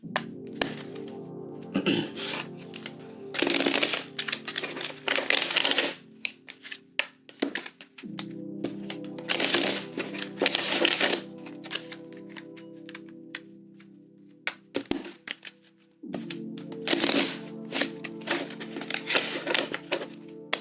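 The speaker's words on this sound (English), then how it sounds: "we're going to do 3 shuffles" Tarot cards shuffled by hand three times, with repeated bursts of riffling and flicking card noise broken by short pauses, close and fairly loud over a steady low hum, no talking.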